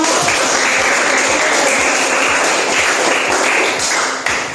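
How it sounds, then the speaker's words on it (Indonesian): Applause from an audience of participants at a classroom training session, a dense steady patter of many hands that holds loud throughout before easing slightly at the end, with a few low thumps under it. "kita berikan tepuk tangan untuk kita semua"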